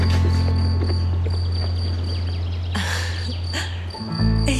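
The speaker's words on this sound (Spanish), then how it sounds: "Es un grillo." A cricket chirps in a steady, continuous high trill indoors, heard fairly clearly over a low droning hum, with a few brief rustling sounds near the end.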